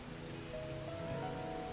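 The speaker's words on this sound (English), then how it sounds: "the sound of water drumming against the building seems to grow louder with the passage of time" Rain drums steadily against a building, a soft, continuous patter that stays even throughout with a faint tonal hum in the background.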